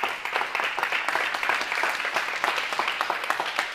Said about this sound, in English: So if you give these guys a round of applause